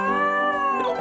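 A dog's singing, processed with auto-tune, comes through as a single close, sustained, pitched howl with clean stepped harmonics that wavers and breaks up after about a second.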